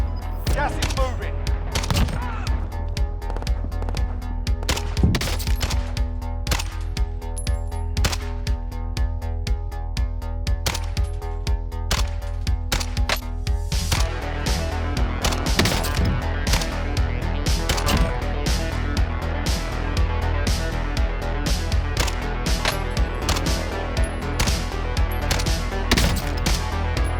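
Rapid bursts of automatic gunfire from a non-meta gun in Call of Duty Warzone crackle steadily and close for nearly half a minute, mixed with repeated sharp single shots over a humming game backdrop.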